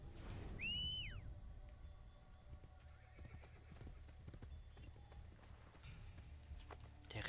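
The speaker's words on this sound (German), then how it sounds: "Wo ist mein Pferd? Wie hole ich mein Pferd nochmal?" Horse in Assassin's Creed Brotherhood, a video game: a near, bright whinny rises early, then hooves clip-clop steadily over game ambience until the end.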